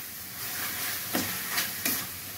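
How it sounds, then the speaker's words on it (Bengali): Ginger, garlic and onion paste with turmeric and cumin powder sautés in a pan: a continuous bright sizzle broken by three sharp stirring scrapes in quick succession. "দিয়ে এবার মশলাটা খুব ভালো করে একটু কষিয়ে নেওয়া হচ্ছে।"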